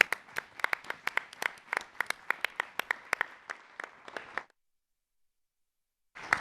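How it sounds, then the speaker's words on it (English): Sparse, distinct claps from a small audience at a political announcement, around twenty separate hand claps in an uneven rhythm over about four seconds, then silence before a brief new sound. "I think Mr. Mannal deserves a round of applause"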